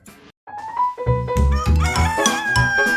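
An Ayam Cemani chicken crows with a drawn-out call. Music and other sounds layer over it, and it stands out moderately loud among them.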